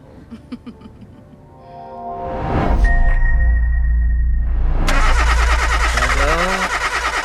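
An old, worn-out car engine cranks and catches, then swells into a loud, sustained revving roar that holds steady, with speech-like sounds faintly beneath it at the start.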